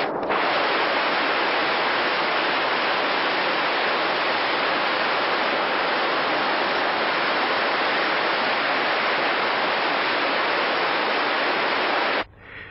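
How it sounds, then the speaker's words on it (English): Ocean breakers roar on the Baja California coast in a dense, continuous wash of surf noise, loud and unbroken for the whole stretch. "On the ocean side, we can hear the breakers roar."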